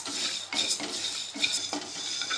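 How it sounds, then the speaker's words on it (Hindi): Whole coriander seeds dry roasting in a wok over a medium flame, with steady scraping stirs and light rattling of seeds and spatula against metal, close and continuous with no talking. "एक कटोरी मैंने लिया है खड़ा धनिया, इसे ड्राई रोस्ट कर लेना है हमें।"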